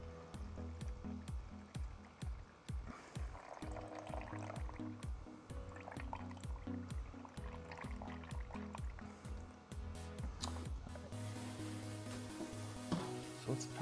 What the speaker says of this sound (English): So I'm gonna put some water in it before we get all this going.